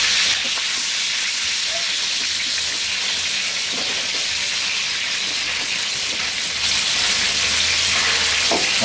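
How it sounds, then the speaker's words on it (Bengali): Rohu fish pieces frying in hot oil in a pan, a dense continuous sizzle with spattering crackles throughout, close and loud, no voices. "তেল ছিটতেছে।"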